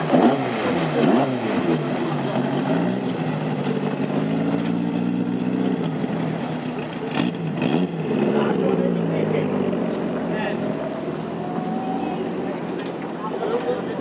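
A classic hot rod race car pulls away at the Ipswich speedway before practice laps, a loud engine drone with rising revs and pitch sweeps, close and continuous throughout.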